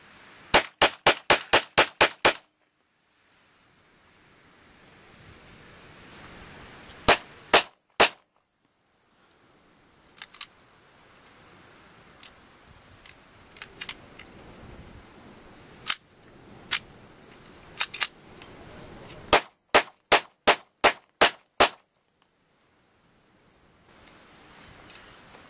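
Hi-Point pistol shots fired in quick bursts: a tight string of about eight sharp cracks, a few scattered single shots, then another rapid run of about seven, loud and close with quiet gaps between.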